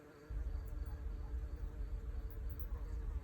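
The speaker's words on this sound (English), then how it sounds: "Ah, my bees." Honeybees humming inside a backyard hive, a dense steady low drone that swells in abruptly after a brief quieter moment and then holds constant and close for the rest of the stretch.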